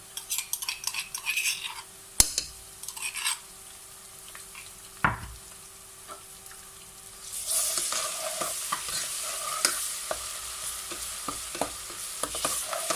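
Steady sizzle of ginger garlic paste frying in a pan, with occasional stirring scrapes and utensil clinks, growing louder partway through.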